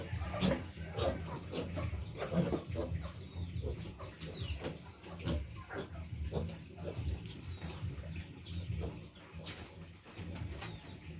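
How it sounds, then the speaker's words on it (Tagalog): Chickens cluck and murmur continuously at close range while waiting for feed, with scattered bird calls and rustling in a busy outdoor setting. "Mga alagang manok"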